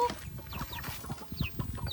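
Laying hens cluck close by, a run of short, repeated clucks and squawks in an uneven rhythm, with occasional higher calls breaking through and no talk.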